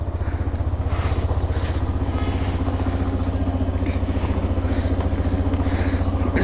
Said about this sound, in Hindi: इसके लिए मुझे अपनी बाइक पहले थोड़ी इधर करनी पड़ेगी।